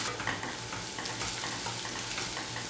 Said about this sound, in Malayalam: എണ്ണ ഒന്ന് ചൂടായി വരുമ്പം നമ്മളിവിടെ എടുത്തിരിക്കുന്ന വെളുത്തുള്ളി, ഇഞ്ചി ഇതെല്ലാം ഒന്ന് നന്നായിട്ട് വഴറ്റിയെടുക്കണം